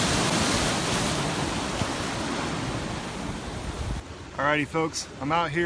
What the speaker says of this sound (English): You can hear that swell.